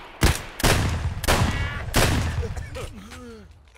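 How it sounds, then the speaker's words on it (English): MP153 shotgun fired in Escape from Tarkov, four loud, booming blasts spaced roughly half a second apart, each with a ringing tail, followed by fainter mechanical clicks and a rising whine. "What is this? MP153? Damn, this shotgun fucking bangs."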